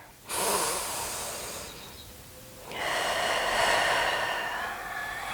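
A full, deep breath during a hip mobility stretch: a strong close-up inhale, a pause, then a long, airy exhale, loud and breathy with no talking.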